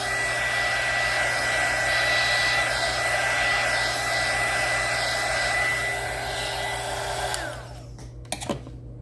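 A dryer blows steadily to cure UV resin on photo paper, a close, even whir that cuts off near the end, followed by a couple of small clicks.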